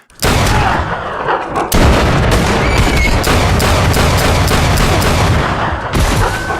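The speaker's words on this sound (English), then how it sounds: "Quite a bit of shooting, actually." Gunshots ring out in a shootout, with sharp cracks fired in rapid, irregular bursts that overlap one another and sound loud and close throughout.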